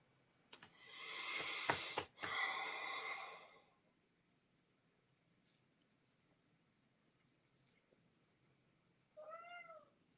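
A cat gives one short, clear meow near the end, after a quiet stretch. Earlier there is a loud, breathy, snorting rumble. The setting is an office during a card-game session.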